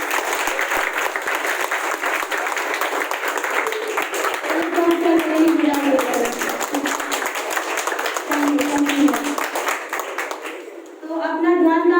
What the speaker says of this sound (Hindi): चलो एक बार गोल के लिए जोरदार तालियां।